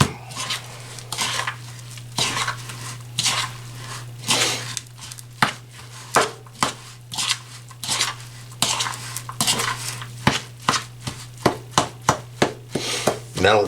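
Garlic pepper mixed into homemade onion powder in a bowl, heard as a run of close, sharp scraping and clinking strikes of a utensil that quicken toward the end, over a steady low electrical hum.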